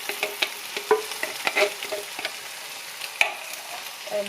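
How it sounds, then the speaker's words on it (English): Chili with beef and fire-roasted crushed tomatoes is stirred in a pot, a quick run of close clicks and scrapes of a utensil against the pot over a soft sizzle, then a pause before a few more. "You can give this a little stir first."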